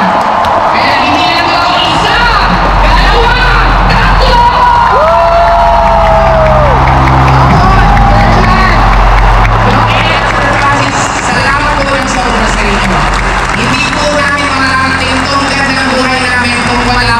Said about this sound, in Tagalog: pumalakpak ka ng pinakamalakas na palakpak mo at tumayo ka bilang masasalapan?